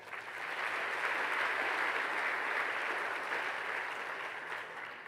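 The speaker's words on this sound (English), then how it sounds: "That is worthy of a clap." An audience at a university convocation applauds, a dense wash of clapping that swells in, holds steady for several seconds, then slowly tapers, heard at a distance.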